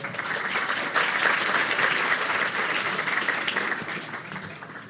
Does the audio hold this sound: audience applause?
yes